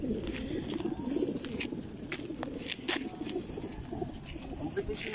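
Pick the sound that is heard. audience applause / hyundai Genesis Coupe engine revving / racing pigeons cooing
racing pigeons cooing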